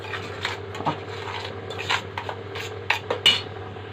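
A spoon stirs a panné coating mix with a spoonful of baking powder in a bowl, making soft scraping rubs and scattered light clinks against the bowl over a low steady background hum.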